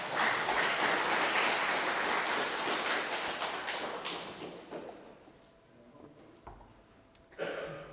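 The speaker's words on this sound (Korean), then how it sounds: "박수 한번 주세요." Lecture audience applauding at a special talk in an alumni hall, a dense wash of clapping that swells loudly at first, then thins and fades, with a few scattered late claps near the end.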